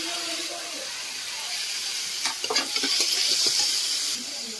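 Tomato hitting a hot pan with ginger and garlic paste for khichuri, a continuous bright sizzle and hiss, then a cluster of clattering stirring scrapes midway before the steady frying resumes, close up and without talk.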